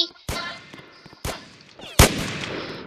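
Three sharp, loud gunshots spaced about a second apart in a zombie escape video game played on a laptop, each followed by a short decaying tail.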